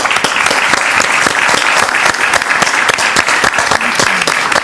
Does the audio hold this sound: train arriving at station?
no